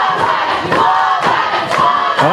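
A large crowd at a rugby grand final between the Macarthur Bulls and Eastern Suburbs Wombats roars and cheers loudly in sustained, swelling waves, with rising shouts breaking through.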